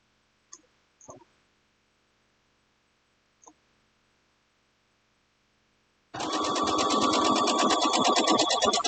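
A sewing machine stitches quilt block fabric in one steady, loud continuous run that starts partway through, after a few soft clicks and handling noises in near silence.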